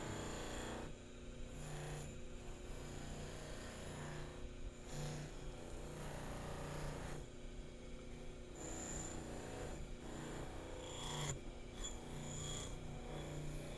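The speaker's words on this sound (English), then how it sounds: "And you can get up in there with this wheel." A rotary wire or buffing wheel works over small steel parts of an 1873 Springfield trapdoor rifle, giving a steady continuous grinding whir with a constant motor hum that runs for the whole stretch, with brief dips as the part is shifted.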